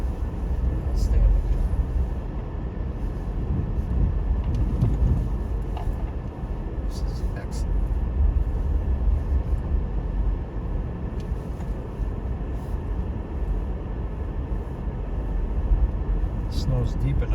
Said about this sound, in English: the car's plowing a little bit of snow. It's still getting through.